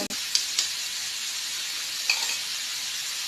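Holy basil (kaphrao) stir-frying in a hot pan in a home kitchen, giving a continuous close hissing sizzle with a few sharp spatula knocks near the start and another around the middle, no talking.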